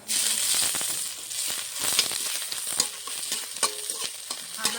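Panch phoron and ginger sizzle and crackle loudly in hot oil, a dense steady frying hiss with scattered pops and stirring scrapes, close and continuous with no talking.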